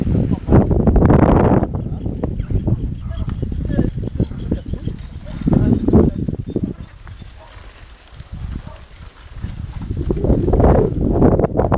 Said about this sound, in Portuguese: Ô, vento, hein?